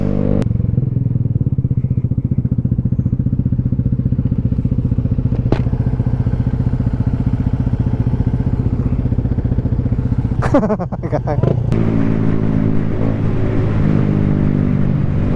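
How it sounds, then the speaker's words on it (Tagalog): Vespa GTV300 scooter exhaust idling with a steady, loud low rumble close by, interrupted near the end by clattering thumps and a brief revving surge before settling again. "Naririnig nyo ba yung exhaust ng 300?"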